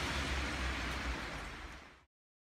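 Steady broadband hiss of heavy rain pouring down, constant and fairly loud, then cutting off abruptly.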